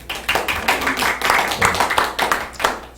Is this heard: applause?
yes